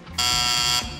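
A single harsh electronic game show buzzer blares for just over half a second during a college quiz semi-final, loud and steady, then stops abruptly.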